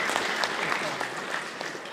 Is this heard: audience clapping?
yes